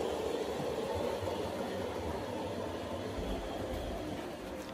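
An Accurascale DRS Class 37 OO gauge model diesel locomotive with DCC sound produces a steady, faint engine drone and rumble, continuous and alone without pauses.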